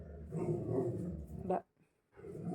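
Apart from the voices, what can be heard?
dog barking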